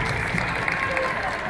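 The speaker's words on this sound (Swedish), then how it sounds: "En applåd till publiken, är de definitivt värda" Audience at a women's elite-series volleyball match in Linköping applauds, a steady dense wash of clapping throughout with a crowd murmur beneath.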